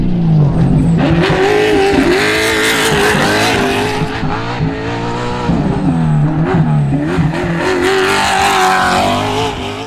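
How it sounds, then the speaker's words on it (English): A Baja race truck with a Gibbs engine screams at full speed on a long straightaway during the 2025 Baja 500, a loud, close, sustained engine roar with rising and falling pitch as it pulls hard through the gears. "We put that thing to the wood and had that Gibbs engine screaming"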